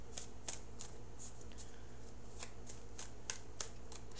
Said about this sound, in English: Shuffling the cards.